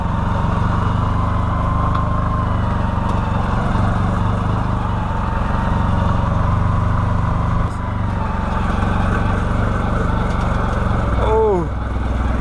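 A 2013 Can-Am Maverick side-by-side with a damaged clutch driving up a hill: its engine drones loudly and steadily, close by and uninterrupted, easing off briefly partway through.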